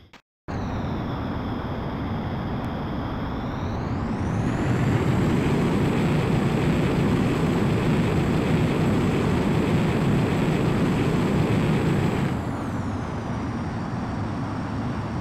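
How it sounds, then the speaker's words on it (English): A fighter jet roars through takeoff in the video game Ace Combat X: Skies of Deception, a loud, steady engine rush that swells and climbs in pitch midway, then eases back near the end, with no talk over it. "Griffith 1, you are cleared for takeoff."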